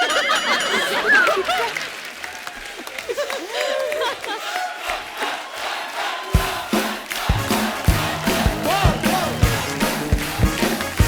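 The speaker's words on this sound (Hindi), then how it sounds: "जोरदार तालियां हमारी क्रिकेट टीम के लिए" A studio comedy show audience applauds and cheers for the women's cricket team, first a dense crowd roar, then strong rhythmic clapping that grows louder and sharper in the second half, with background music.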